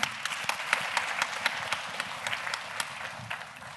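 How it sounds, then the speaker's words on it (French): A conference audience in a lecture amphitheatre applauds two young speakers at an event about dyslexia and related learning disorders. Dense, steady clapping from many hands fills the room for several seconds, with a few sharper claps standing out. "On va commencer avec Bastien et Florian, qu'on applaudit très fort parce que c'est courageux à eux"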